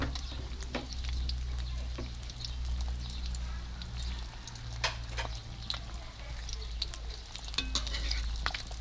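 Two eggs frying in hot oil for a kale stir-fry with tuna and crispy pork, a quiet continuous sizzle with scattered sharp crackles and pops, close and steady throughout.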